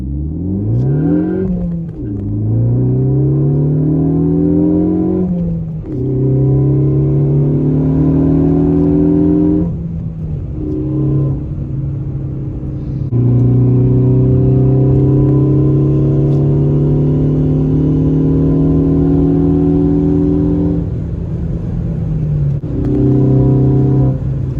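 Ford Focus ST fitted with a Borla S-Type exhaust pulls hard in first gear, its engine note climbing in long loud sweeps, easing briefly at each shift, then rising again from inside the car.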